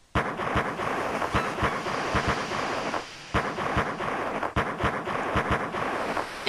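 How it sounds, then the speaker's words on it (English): Fireworks in the Chrono Trigger DS video game go off as a rapid, continuous string of sharp crackling bursts that are loud and close, with one brief lull in the middle. "that's either gunshots or fireworks, but judging by the balloons, it's probably more likely to be fireworks"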